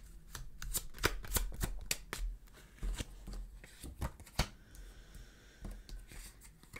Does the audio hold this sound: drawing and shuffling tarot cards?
yes